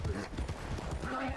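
Horse hooves clip-clopping in the Red Dead Online video game, a quick run of muffled hoofbeats heard briefly under players talking.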